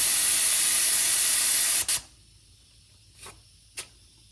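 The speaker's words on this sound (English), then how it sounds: "If you use that and press on the valve stem, it will let air back out" Air hisses loudly out of a car tire valve stem for a steady stretch and then cuts off sharply. Two brief, softer puffs of release follow.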